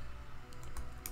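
Light, quick keystrokes tap on a computer keyboard as a Sims 4 cheat code is entered, a handful of soft clicks over low background hum.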